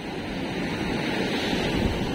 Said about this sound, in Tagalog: Malaki palang dagat ngayon